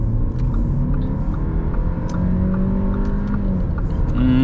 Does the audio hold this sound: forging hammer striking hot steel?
no